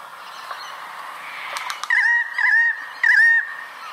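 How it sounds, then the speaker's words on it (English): A channel-billed cuckoo calling in Australian bushland, giving loud, harsh, honking squawks in three quick repeated bursts close by, over a faint background of other birds. "bird's making that sound, it's a channel-billed cuckoo"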